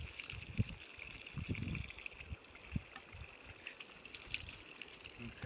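Water poured from a sponge onto an encaustic wax mural trickles and splashes in uneven bursts, with soft gushes and drips close by.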